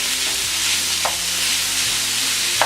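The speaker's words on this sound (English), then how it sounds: "now I'm gonna add in the ground beef. Okay, and just use your pot spoon to break the meat up" Ground beef sizzles steadily in a hot pot while a pot spoon stirs and breaks the meat apart, giving a loud, continuous frying hiss with occasional scraping knocks and no voices.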